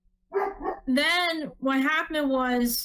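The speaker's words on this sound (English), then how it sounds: "I apologize for my dog." A dog in a yard barks and yowls loudly and close by in several drawn-out bursts while a person talks over it.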